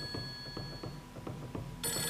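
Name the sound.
telephone ringing in video game Fatal Frame 3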